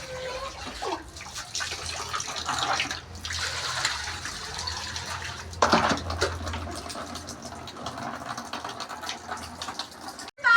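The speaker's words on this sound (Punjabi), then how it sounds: "ਧੋ ਇਹਨੂੰ ਪਾਣੀ ਥੱਲੇ ਕਰੋ" Tap water runs steadily over a foot wounded by a nail, a continuous close splashing stream heard mostly on its own, with brief muffled voices.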